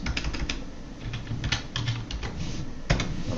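Rapid typing on a computer keyboard, a steady run of close, crisp key clicks with a few louder strikes, heard alone without talk.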